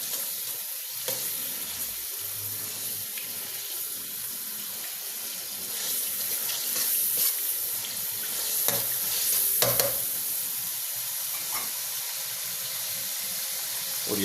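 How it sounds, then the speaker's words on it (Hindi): Onions frying in mustard oil in a home kitchen pan for a chicken and potato curry, giving a steady broadband sizzle with occasional stirring scrapes, close and continuous throughout with no talk. "थोड़ा सा भूनेंगे ताकि प्याज का जो पानी है वो ख़त्म हो जाए।"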